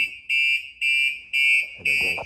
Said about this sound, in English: now the full alarm will go off and it'll lock your wheels where you can't roll it.